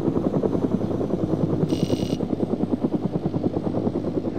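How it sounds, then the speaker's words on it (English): A helicopter in the DayZ mod passes overhead, its rotor chopping in a steady, rapid, loud pulse that dominates throughout, with a brief high-pitched tone partway through. "And as soon as I spawn in, there's a chopper."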